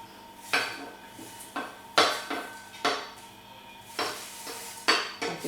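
Utensil scraping and tapping sun-dried tomatoes off a pan into a small container, a series of sharp, close metallic scrapes and knocks arriving in irregular bursts with short pauses between.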